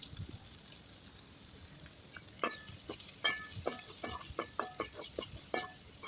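Ginger, garlic and onion fry in a pan with steady sizzling while a spoon scrapes and taps in a run of crisp strokes, close and clear, with no talking.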